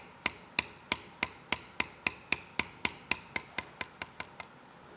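A mallet drives a beveling tool into leather while tooling a knife sheath, giving about sixteen crisp, evenly spaced knocks that speed up slightly, each with a short bright ring, close and alone.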